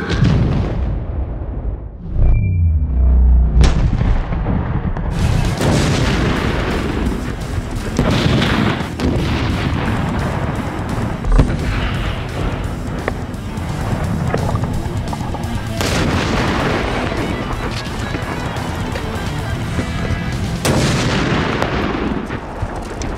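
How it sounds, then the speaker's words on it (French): A car packed with 340 litres of acetylene detonates in a huge, loud blast, followed by further heavy booms and rumbling bursts over about twenty seconds, with no talking. "Explosion de voiture avec 340 litres d'acétylène dans 3,"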